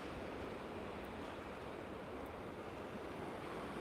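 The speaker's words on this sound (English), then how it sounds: "listen to the sound of the waves there" Ocean waves break on a rocky beach at La Caleta, a steady, full wash of surf with some wind noise across the microphone and no voices.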